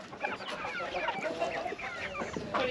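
Chickens and a rooster cluck outside the coop on an Alaskan homestead, a busy overlapping chorus of short clucks and squawks at moderate distance with no talk.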